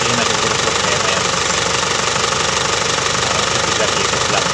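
A boat or pump engine runs steadily and loudly throughout with a slight rough knocking, close by and alone, with no talk over it.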